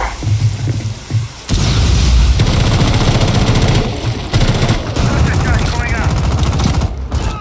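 Gunfire in the tactical shooter Rainbow Six Siege: sustained loud automatic fire and booming shots fill most of the stretch after a brief quieter opening, with a few short pauses between bursts.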